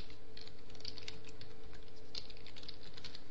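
Someone types a security code on a computer keyboard. The keys give quick, faint, irregular clicks up close over a quiet background.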